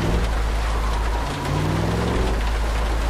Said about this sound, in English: I really don't think this hailstorm's messing around